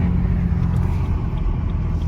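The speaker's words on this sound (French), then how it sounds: "on entend déjà l'échappement derrière, ça ronronne déjà très bien" A steady, deep engine rumble from a BMW M3 F80 sports car exhaust idling nearby, low and continuous with no talking.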